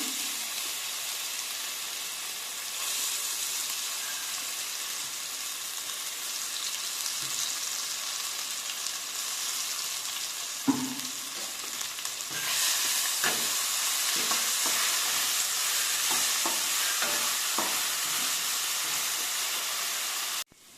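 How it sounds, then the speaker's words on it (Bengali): Spice paste for egg curry fries in hot oil in a pan, a constant loud sizzle that swells midway, with repeated scraping and clinking of a spoon stirring the paste. "আমার এই পেস্ট করে রাখা ছিল, এটা আমি এখন তেলের মধ্যে দিয়ে দিচ্ছি"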